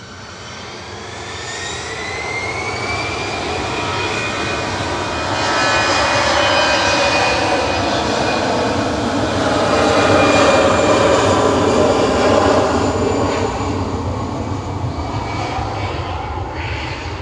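A Boeing 737-900 airliner in SkyTeam livery at Manchester Airport gives off a steady, loud jet roar with a thin engine whine, swelling in the middle and easing slightly toward the end, with no voices.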